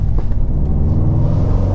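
A 2020 Subaru WRX STI with a manual gearbox pulls away from a stop on a hill in first gear, its engine giving a loud, low, steady rumble up close.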